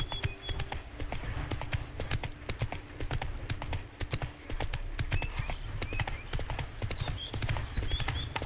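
The horse Roach trots in The Witcher 3 video game, its hooves clip-clopping in a fast, steady, even rhythm throughout, close and clear, with a low rumbling bed beneath.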